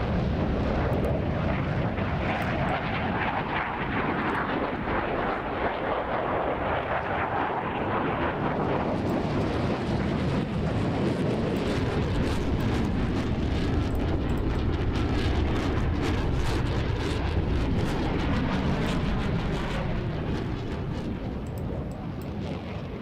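A Super Hornet jet flies past at a Roblox aerobatic display, a loud, continuous broadband roar that shifts in tone partway through and carries on for over twenty seconds without speech.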